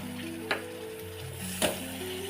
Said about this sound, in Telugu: ఇప్పుడు మనము ఎండు చేపలను వేసుకొని కలుపుకోవాలి